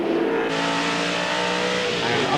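A TVR Tuscan Challenge racing car from the 1990 season accelerating hard onto a straight, its engine note loud and sustained throughout, with a commentator talking over it.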